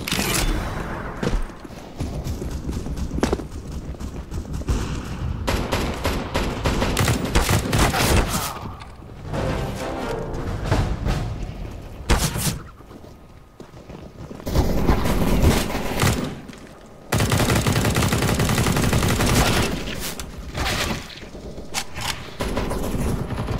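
Gunfire in Counter-Strike: Global Offensive, with loud rapid bursts and repeated shots clustered tightly, broken by brief quieter gaps, dense and close throughout with heavy booming impacts.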